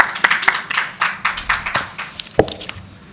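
Applause breaks out for an award winner at a national gynaecology and fertility conference in Mumbai, a brief scattered round of hand clapping with individual claps standing out, moderately loud and without talking.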